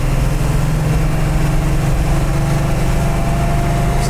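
A 1970 Plymouth Sport Satellite V8 drones loud and steady in second gear while driving, with a constant low rumble and no speech.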